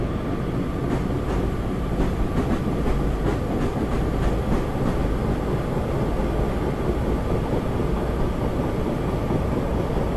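A First Great Western Class 150 diesel multiple unit in Train Simulator 2016 on the South Wales Coastal route, accelerating with a steady, loud rumble and faint rhythmic rail clicks running through the whole stretch.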